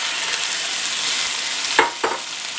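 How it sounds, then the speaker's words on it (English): Venison tossed with steak spice browning in a skillet of hot olive oil, giving a steady close crackling sizzle with a couple of sharper spatters near the end. "Now I've got my skillet heated up with olive oil, and I would go ahead and toss your venison or beef with steak spice."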